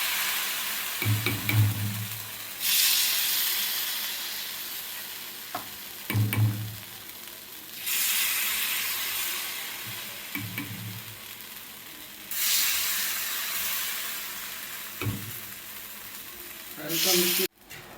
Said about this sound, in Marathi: हे सगळे अप्पे आपण या तव्यामध्ये सोडून घेणार आहे